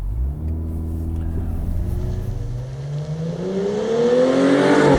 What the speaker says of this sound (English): The engine will be vaguely familiar to those who know about the old ATS-V. Sounds kind of the same.